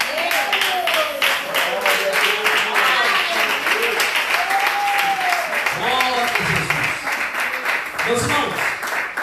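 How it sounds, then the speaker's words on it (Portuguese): A church congregation claps in a fast, steady rhythm during a Sunday service while singing voices and music carry on loudly over the applause. "se desejar, aplaudir o Senhor com alegria"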